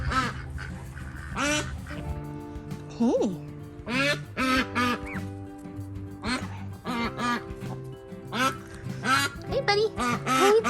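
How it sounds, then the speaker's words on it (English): Ducks quack repeatedly around a backyard pen shared with turkeys, loud and close, mixed with other bird calls while a person speaks to the animals. "And there's the ducks and the turkeys."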